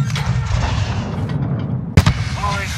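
In Call of Duty: Modern Warfare (2019), a grenade goes off with a single heavy boom and crack over constant battlefield rumble and gunfire, near and loud, with voices shouting around it.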